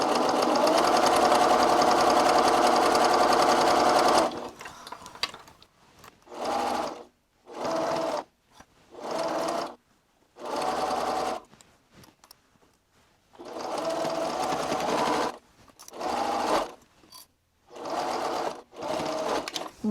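A sewing machine back-stitches over the fabric ties of a bow book sleeve. One long, steady run of stitching is followed by a string of short bursts separated by brief pauses, close and clear.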